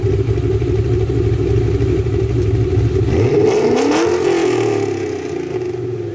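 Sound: Ford Mustang accelerating as the driver hits the gas

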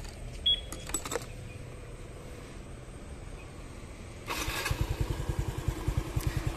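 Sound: Honda Wave RSX motorcycle engine idling

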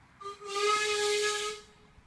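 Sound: steam hissing during locomotive boiler steam test

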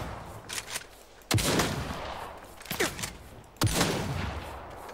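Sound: shotgun fire in video game Saints Row

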